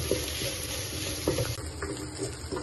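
Ginger garlic paste frying with green chillies in a pot, a close, soft sizzle with light crackles and a stirring scrape or two over a couple of seconds.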